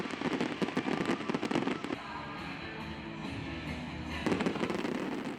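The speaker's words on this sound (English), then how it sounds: "stunning fireworks just outside the French capital, a spectacular ending to the Summer Olympics" Fireworks at the Paris 2024 Olympics closing ceremony outside the French capital, dense crackling bursts and pops at a distance, a rumbling, softer lull in the middle, then another flurry of rapid crackles.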